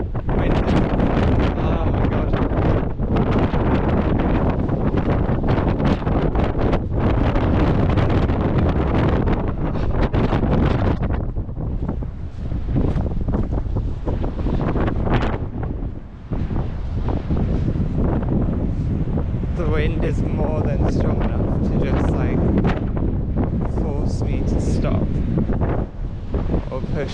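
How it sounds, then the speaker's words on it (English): Strong wind on coastal cliffs along a coastal walk, roaring loudly and continuously across the microphone with buffeting gusts and no let-up. "It's wind."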